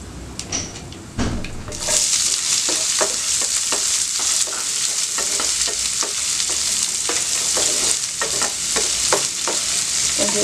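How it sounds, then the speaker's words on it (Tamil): Onions drop into hot oil with fenugreek seeds for dal rice, setting off a loud, steady sizzle after a few clinks, with repeated spoon scrapes and stirring taps against the pan throughout. "இப்போ வெங்காயம் போட்டுக்கலாம்."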